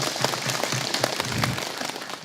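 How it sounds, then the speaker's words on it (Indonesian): A studio audience at a Quran-recitation gathering bursts into lively applause, many hands clapping densely and steadily up close, easing off slightly toward the end. "Tepuk tangan dulu."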